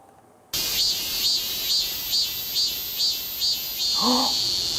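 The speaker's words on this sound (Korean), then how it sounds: "바로 매미 소리였어요" Cicada buzzing pulses in an even, repeating rhythm against a steady shrill drone, fairly loud and continuous, with a brief lower chirp near the end.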